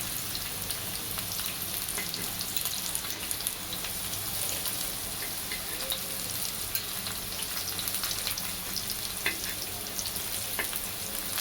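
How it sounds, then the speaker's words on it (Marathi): Bitter gourd (karela) slices fry in a pan over low heat, giving a steady, even sizzle and crackle that runs unbroken throughout with no talking. "आपण सर्व कारल्याचे काप तळून घेणार आहोत"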